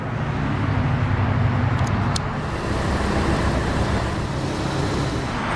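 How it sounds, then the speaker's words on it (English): A 2011 Lamborghini Gallardo LP570-4 Superleggera runs with a steady, loud engine drone that holds at a constant level throughout, dense low rumble with no speech over it. "let's go ahead and start it up, let it run."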